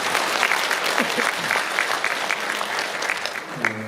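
Applause from a crowd at a Pocheon city festival celebrating a new railway line, steady and dense for several seconds, with brief crowd voices and a short vocal tone near the end.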